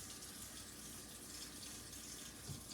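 Tap water running steadily into a glass Pyrex measuring cup in a home kitchen, a quiet continuous splashing hiss with no talk.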